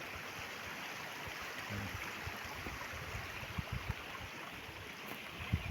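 Steady broadband rushing of the shallow Osorio river in Trece Martires, Cavite, fills the whole stretch, constant and fairly close, with a few faint clicks and no talking.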